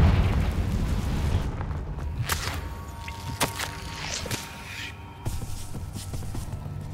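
The Confringo fire spell bursts in the video game Hogwarts Legacy, a deep rumbling blast at the start that decays into crackles, sharp pops and scattered impacts over several seconds.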